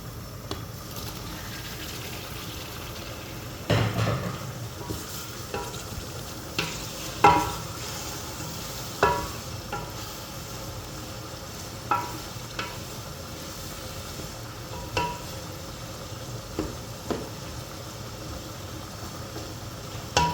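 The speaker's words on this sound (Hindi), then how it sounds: "थोड़ी देर दोस्तों टमाटर को अच्छी तरीके से हम भूनेंगे, ताकि टमाटर गल जाएं" Tomatoes fry and sizzle in a pan for black chana curry, with a steady sizzle under repeated scraping stirs of a spoon, close and moderately loud throughout.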